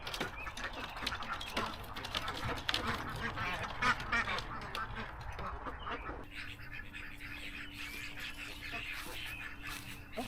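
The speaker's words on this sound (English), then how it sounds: "most of the ducks seem to be getting it, but Julia is always the last and protesting" Ducks being trained to use a ramp quack and honk in a busy flock, calls overlapping irregularly at close range; after a few seconds the chatter thins and a steady hum appears beneath it.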